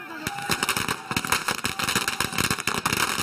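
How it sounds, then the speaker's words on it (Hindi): Firecrackers burst in rapid irregular volleys during a street celebration of a BJP election victory in Uttar Pradesh, loud sharp cracks crowding one another with a crowd's noise underneath. "पटाखे छूटे"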